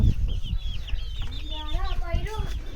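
Several chicks peep in high, rising chirps close by, with a few clucks from a hen and light rustling underneath.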